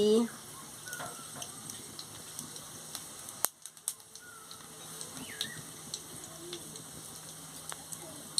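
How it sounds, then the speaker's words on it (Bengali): Dried chillies and tempering spices dropped into hot oil in a kadai for a chalta chutney, giving a faint, crackling sizzle with scattered small pops and a brief clatter partway through. "এবার তেল গরম হয়েছে আমি শুকনো লঙ্কা আর ফোড়নটা দিয়ে দিচ্ছি"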